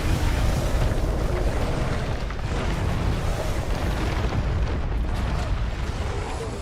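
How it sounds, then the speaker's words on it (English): Explosions of the floor in the video game Monster Hunter Stories, a continuous loud roaring rumble of blasts and debris lasting throughout, with no voices over it. "No, the floor is exploding!"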